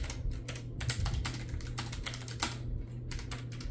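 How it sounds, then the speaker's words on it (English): Keys clatter in quick, uneven bursts on a Logitech G915 TKL wireless keyboard, close and steady for several seconds over a low constant hum. "let me see if I can type."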